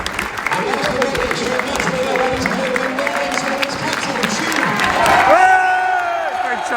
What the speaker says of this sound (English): Fantastic cheer for Coley.